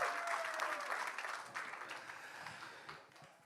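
Crowd applause at a John Lodge event: a steady, dense patter of many hands clapping close by, holding strong before thinning and fading toward the end.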